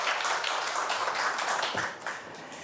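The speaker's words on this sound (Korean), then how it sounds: "다시 한번 박수 부탁드립니다" Audience at a university lecture clapping for the professor, a dense, even patter of many hands that fades slightly toward the end.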